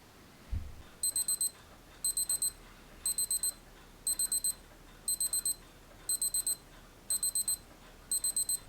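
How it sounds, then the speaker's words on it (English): A high-pitched electronic alarm from a Casio AE-1200 digital watch beeps in repeating bursts of quick chirps, about once per second, faint and thin over a quiet background. "the backlight will flash whenever the buzzer sounds for the alarm"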